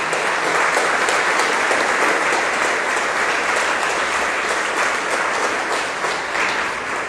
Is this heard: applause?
yes